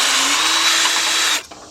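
A cordless drill fitted with a 13 mm deep socket spins out a bolt on a 2007 Chevy Impala, a loud, steady high whir that holds briefly and then stops abruptly, with no talk.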